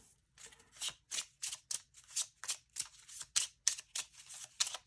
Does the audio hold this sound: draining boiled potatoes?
no